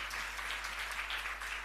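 Congregation clapping during a Christmas sermon, a steady spread of applause from many hands, moderately loud and even, with no speech over it.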